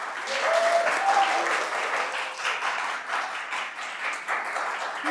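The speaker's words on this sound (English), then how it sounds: "let's give Rhett a round of applause," Audience applause for an artist at an artist talk and live VR painting demonstration, a sustained round of clapping from a room of people, steady and moderately loud with a few brief tonal sounds early on.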